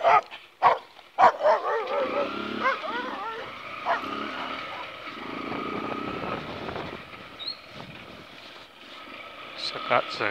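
A dog barks sharply a few times, close, at the start, over steady rumbling outdoor background noise. A few fainter yips follow later.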